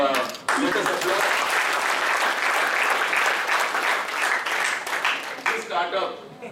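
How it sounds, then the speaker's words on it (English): An audience at a Microsoft startup event at a university gives sustained, dense applause that starts abruptly, holds steady and tapers toward the end, with a voice faintly audible at the close. "So let us applaud"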